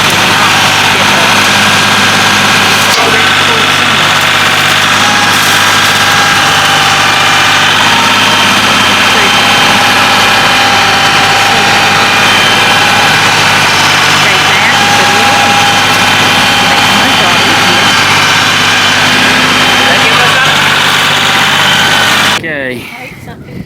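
A Massey Ferguson tractor pulling a bush hog mower runs with a loud, steady low engine drone for about twenty seconds, then cuts out abruptly near the end.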